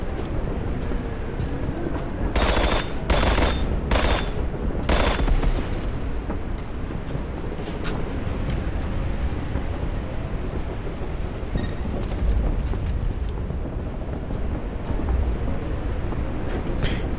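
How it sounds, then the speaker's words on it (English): Explosives blow up a wall in the video game Strike Force 3: a cluster of sharp, loud blasts in the first few seconds, then a steady rumble of battle noise with scattered cracks and no talking. "we will have to blow up some explosives, so that way we can destroy our wall to get through"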